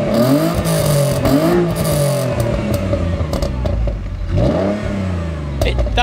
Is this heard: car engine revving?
yes